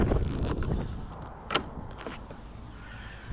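Motorhome entry door on an RC9M Carbon Edition unlatching with a click while an electric step motor whirs and rolls out, close and moderately loud with a short mechanical clunk midway.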